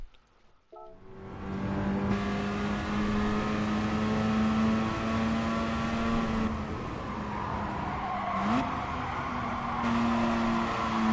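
A Mazda RX-7 rotary engine in Gran Turismo Sport drones at a steady high pitch for several seconds, with a rise in revs after the first second and a quick blip near the end, loud with no voices.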